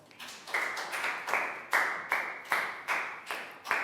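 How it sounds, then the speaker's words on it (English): Steady, rhythmic claps from one or a few people, about two or three per second, close and crisp with no talking, as in a praising round of applause during a primary school English lesson. "Big round of applause for Pangpon."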